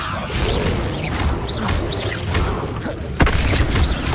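The Confringo blasting spell in the video game Hogwarts Legacy sets off loud, booming explosions with crashing debris and whooshing effects, and a sharp blast lands near the end.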